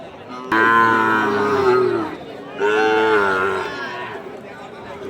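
Sahiwal cattle and calves at a livestock market give two long, deep lowing moos close by, one after another, over a low murmur of crowd noise.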